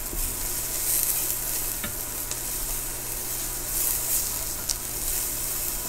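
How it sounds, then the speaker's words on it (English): Onions stirred as they fry in a pan, a steady sizzle with scattered scrapes and clicks of the utensil against the pan, close and continuous with no talking. "I'm going to stir my onions since they've sat there for a bit."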